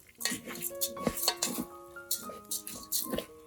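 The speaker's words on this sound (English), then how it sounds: "After adding the rice, give it a good mix with the spices and the oil or ghee." A spoon stirs washed rice with spices and ghee in a pot, producing soft scraping and clinking of metal against metal in a repeated, close rhythm under quiet background tones.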